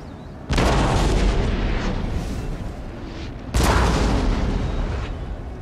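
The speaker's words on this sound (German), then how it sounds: "hat seine Artillerie sich schon aufgebaut und das Feuer eröffnet" Two heavy artillery blasts in a Napoleonic-era battle video game, each a loud broadband boom that rolls on and decays slowly, the second arriving about three seconds after the first.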